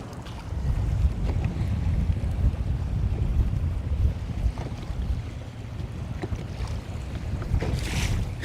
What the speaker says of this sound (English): Who woke up the wind?